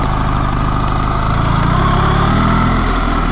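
A BMW R1300GS motorcycle engine hums steadily while riding, a continuous loud drone with a low pulsing rumble that grows slightly fuller toward the end, with no voices.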